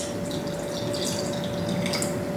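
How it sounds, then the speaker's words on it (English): Water trickles and drips steadily as more is added to a dish being prepared at home, a continuous close pouring sound with a faint steady hum beneath. "I think I need to add a little more water to it."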